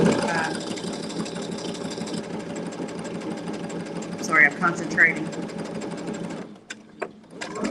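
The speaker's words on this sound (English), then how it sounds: "We're talking about the sewing machine." Baby Lock sewing machine stitching appliqué fabric, a steady close mechanical whir with rapid needle chatter running for several seconds before stopping, while someone speaks briefly over it.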